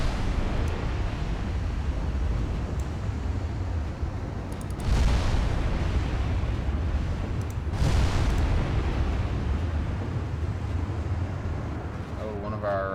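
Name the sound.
naval battle shell explosions, video game Ultimate Admiral Dreadnoughts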